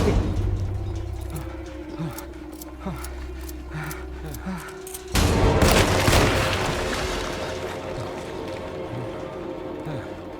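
Revolver gunshots in the Alone in the Dark video game: a sequence of sharp, close cracks amid footsteps and eerie ambience, then one louder blast followed by a lingering reverberant rumble.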